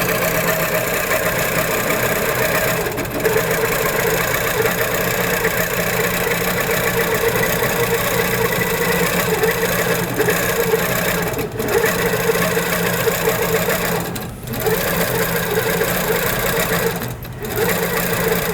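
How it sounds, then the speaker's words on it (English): An HQ Pro-Stitcher computerized longarm quilting machine stitches edge-to-edge across a quilt in a loud, constant mechanical hum that runs unbroken for nearly twenty seconds, with only a few brief dips. "now it's just going to go ahead and stitch through the rest of the quilt with this row."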